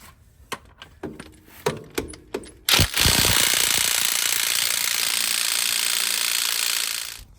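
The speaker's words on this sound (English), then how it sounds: "My trusty Ryobi Impact with my little Milwaukee socket has managed to pull off the crank" Ryobi impact wrench with a Milwaukee socket loosening the crank bolt on a Honda Legend KB1 during a timing belt job, starting after a few knocks and clanks with a loud, sustained hammering rattle that runs for several seconds close up.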